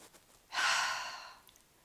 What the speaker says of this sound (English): Inhale, filling that side with air. Exhale.